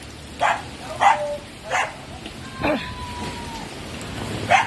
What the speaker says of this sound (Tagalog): Maulan po, maulan. Isang maulang tanghali.